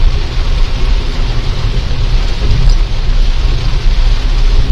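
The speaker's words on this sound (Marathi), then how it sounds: "धुआधार पाऊस चालू आहे" Heavy monsoon rain pours down on the Khandala ghat expressway, a loud, dense and continuous hiss of downpour with a low rumble of traffic beneath, with no voices present.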